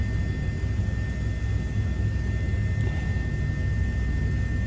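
An aircraft in Microsoft Flight Simulator produces a steady, loud engine rumble with a low drone and a thin constant whine, unbroken throughout and without any voices.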